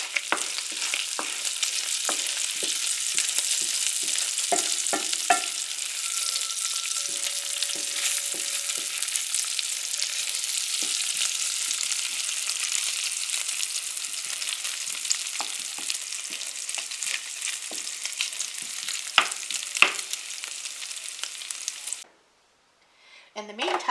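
Bacon frying in a pan for puff pastry bacon, egg and cheese, a steady close crackling sizzle with scattered pops and spatters throughout, cutting off briefly near the end before resuming.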